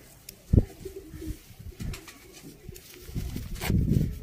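Racing pigeons kept by a pigeon fancier in Sialkot coo nearby, with several low, throaty coos and soft rumbles in irregular bursts and light rustling between them.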